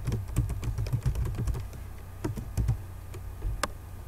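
Close keystrokes on a computer keyboard, quick irregular clicks in short bursts with brief pauses, no voices.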